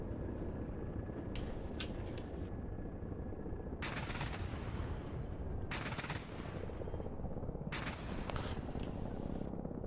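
An insurgent ZU-23 anti-aircraft gun fires in a video game, a continuous loud mechanical roar of rapid autocannon shots broken by several sharp crackling bursts spaced a couple of seconds apart.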